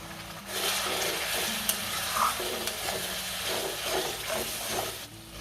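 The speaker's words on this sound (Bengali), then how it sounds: "এখানে এখন একটু জল অ্যাড করে দেব, যাতে মশলাটা পুড়ে না যায়।" Water splashed into spice paste frying in a pan for Bengali macher kalia sets off a steady, close hiss and sizzle with stirring scrapes throughout.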